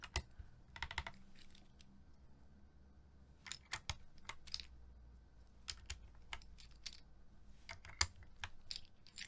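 Keycaps are pressed onto a mechanical keyboard and tested, giving close, sharp clacks and rattling taps in irregular bursts, sometimes a quick run of keystrokes, over a quiet room with no talking.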